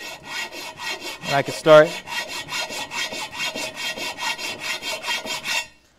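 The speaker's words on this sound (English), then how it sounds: "just slowly filing till I get it." A hand file rasps across curb rash on an aluminum wheel in a steady rhythm of about twenty even back-and-forth strokes, close and distinct, with a few brief spoken words near the start.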